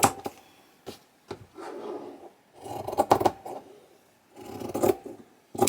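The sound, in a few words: scissors cutting strips of green felt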